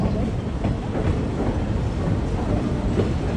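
A heritage train with wooden coaches rumbles steadily through the redwood forest of the San Lorenzo Valley, its wheels clattering in a continuous low roar at close range.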